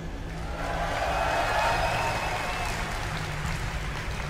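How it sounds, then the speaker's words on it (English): A large esports crowd at BlizzCon 2011 applauds steadily, a sustained wash of clapping, with a few faint voices mixed in. "I think that was pretty even applause."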